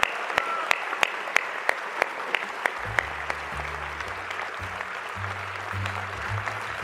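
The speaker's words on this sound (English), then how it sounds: "we all owe Al Smith a great, great round of applause" An audience at a live dinner event in New York applauds, a dense wash of clapping with a few distinct nearby claps, while a low hum and voices sound underneath.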